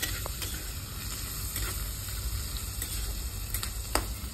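Onions frying in a wok with whole cumin and dried red chillies, a continuous close sizzle and hiss with a few sharp crackles and stirring scrapes.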